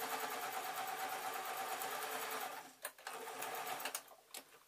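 Sewing machine stitching a fabric owl: a fast, steady whirring run for a couple of seconds, then stopping and restarting in short stuttering bursts.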